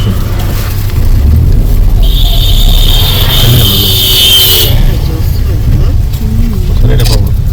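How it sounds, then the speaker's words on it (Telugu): Vehicles roar past on a road during a Ganesh immersion procession, their engines loud and close and overlapping throughout, with people talking over the traffic. "అడ్డం బండ్లు పోతున్నాయి కదా"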